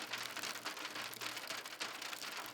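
Steady rain falls on a hard surface in a stormy night, a dense even patter of close drops with no voices, continuous for the whole stretch.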